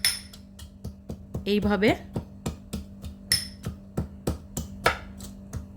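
Whole garlic cloves lightly crushed for a dried lotte fish and vegetable dish, making a quick, regular series of close, sharp knocks, with someone talking briefly in between.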